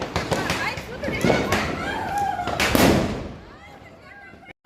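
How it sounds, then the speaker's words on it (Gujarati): During Diwali celebrations, a sutli bomb firecracker set inside a box goes off among sharp crackling pops, with one loud booming burst near the end, while people talk and exclaim nearby. "આ બોક્સની અંદર સુતળી બોમ્બ મૂકે છે, શું હાલત થાય"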